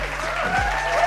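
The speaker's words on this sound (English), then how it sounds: "Ladies and gentlemen, please give my man Randy a round of applause." A brief burst of audience applause for a guest on a talk show, a dense wash of clapping that runs the whole clip with a faint tone underneath.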